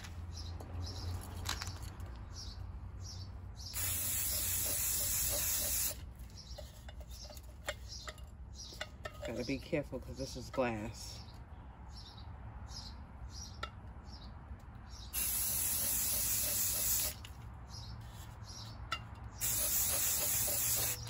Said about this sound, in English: To hold it up while I spray paint it.